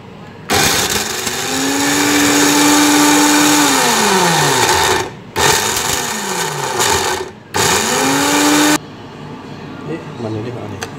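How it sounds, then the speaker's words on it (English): Dry blender grinding chili padi with three cherry tomatoes, a loud whining motor running in three bursts with brief pauses, pitch sagging as the load shifts, ending with faint sounds after it stops. "Sebab I guna blender kering, so I tambah 3 cherry tomato tu untuk apa ni, supaya dia senang nak blend kan"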